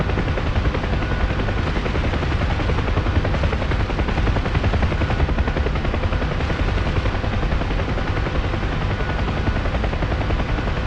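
Helicopters in the combat flight simulator DCS World during an assault on North Tinian, a loud, continuous rotor roar with rapid bursts of machine-gun fire mixed into the dense, unbroken noise.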